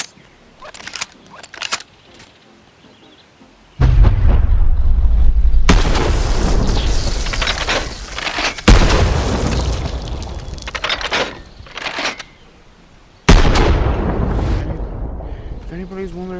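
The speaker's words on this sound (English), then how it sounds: "This is the trench rifle from World War II." A WWII trench shotgun fires repeatedly in the VR game Bonelab, with several loud, booming blasts close by, long sustained roars after each shot, and clattering handling noises between them.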